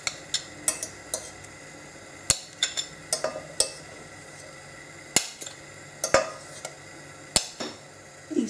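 A utensil stirs strawberry sauce for poultry in a pan, giving scattered light clinks and taps against the pan at an irregular pace, fairly close and quiet with no voices.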